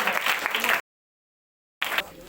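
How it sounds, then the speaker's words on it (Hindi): Bursts of crowd applause, a dense patter of clapping, cut off abruptly by silence and then resuming for a moment. "तो जोरदार तालियों के नाम गुड़िया के नाम"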